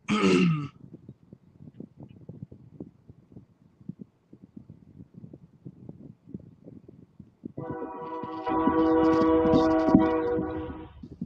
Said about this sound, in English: oh damn, it's a train.